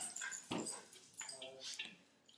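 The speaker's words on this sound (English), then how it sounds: "So sorry, that was my dogs." Dogs whimpering and yipping indoors at moderate distance, with short whiny bursts scattered across a couple of seconds behind a faint room voice.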